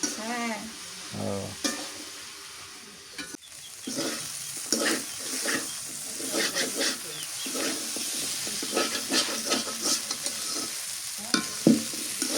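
Vegetables with green chilies frying and being stirred in a pan, a steady sizzle with repeated scraping stir strokes throughout, with faint voices now and then.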